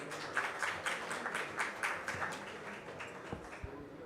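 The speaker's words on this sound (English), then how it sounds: "Please welcome with a round of applause." Faint, distant round of applause from a seminar audience in New Delhi, a steady patter of many hands clapping that thins out toward the end.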